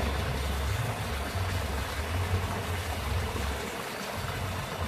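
Continuous water churning and splashing from someone swimming laps in a backyard pool, a steady broadband wash with low thumps, fairly close and without speech.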